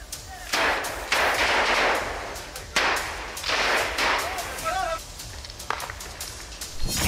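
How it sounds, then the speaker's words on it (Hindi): Several sharp gunshot cracks and thuds ring out at intervals from residential houses toward soldiers during an Israeli army search operation, loud against heavy background noise. "इस दौरान रिहायशी मकानों से सेना पर फायरिंग भी हो रही है।"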